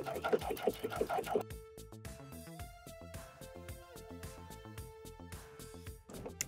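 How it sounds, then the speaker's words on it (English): A sewing machine stitches a pocket onto a beach tote with a steady, rhythmic run of needle strokes, heard alongside a tonal musical background. "So we're just stitching to the left of that serge there, so that way we can keep the pocket nice and secure."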